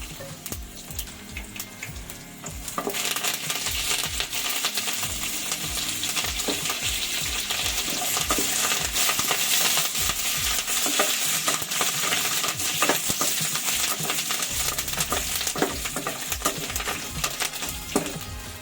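Onions go into hot oil with curry leaves, chana dal, cumin and mustard seeds for a bitter gourd jaggery pulusu, producing a loud, continuous close-up sizzle broken by repeated clattering stirs of a spoon against the pan.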